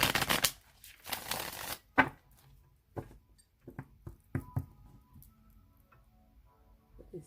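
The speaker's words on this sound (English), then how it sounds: "I'm going to shuffle it 3 more times" A deck of tarot cards is shuffled close by, starting with brisk riffling bursts and then easing into sparse soft taps and card flicks.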